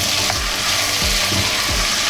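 Garlic sizzles loudly in a hot pan while a pot roast is being made, a steady close crackle with a few soft scrapes and knocks of stirring, no talking.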